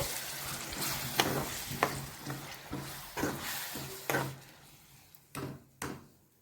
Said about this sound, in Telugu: మసాలా వేసి ఒకసారి ఇలా కలుపుకున్న తర్వాత